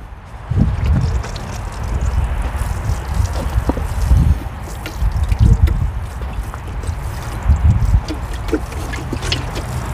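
Onion plants in a home garden are watered with rainwater drawn from two drums linked by a raised pipe. Splashing and trickling water comes in repeated soft, low pulses, close and steady, with no voices.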